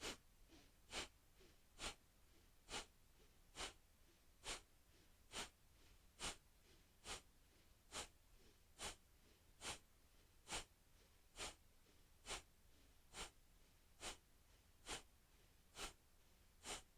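About twenty sharp, forceful nasal exhalations of Kapalabhati yoga breathing in a steady, quick rhythm, each a short breathy puff close to the listener, with quiet pauses between.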